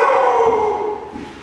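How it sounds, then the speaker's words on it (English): A dog at a friend's house gives a long drawn-out howling bark, loud and close, trailing off over about a second and a half with no talk over it. "Ricardo, the friend's dog doesn't want me here"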